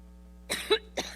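Someone has a coughing attack during an appearance in Cleveland: two or three rough, close coughs in quick succession after a moment of quiet, with a throat-clearing quality.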